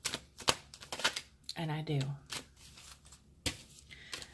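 Tarot cards shuffled aggressively, with rapid sharp riffling snaps and slaps in quick bursts, close and loud, interleaved with someone talking.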